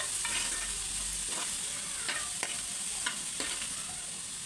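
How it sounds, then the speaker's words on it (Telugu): Onions frying in a pan for paneer masala gravy, a steady close sizzle with several soft scraping stirs spaced through it. "ఉల్లిగడ్డ వేసి ఇలా వేయించుకోవాలి."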